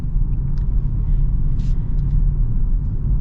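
A 2025 Genesis GV70 2.5T driving, heard from inside as a steady low rumble of engine and road noise, loud and constant, with a few faint clicks and rustles and no speech.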